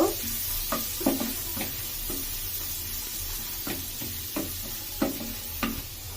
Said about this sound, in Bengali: আমি একটু গাজরটা 1 মিনিট ফ্রাই করে নিব।